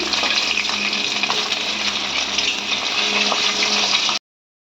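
Fish sizzling in hot oil in a wok after being turned, a loud, continuous close-up frying hiss that stops abruptly near the end.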